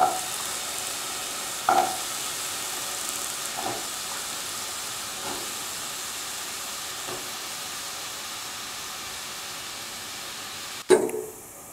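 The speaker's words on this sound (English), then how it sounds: "Heat the pan and put in the ash gourd pieces" Ash gourd pieces dropped into a hot pan, giving a steady sizzling hiss with a few soft stirring knocks and a sharper clatter near the end.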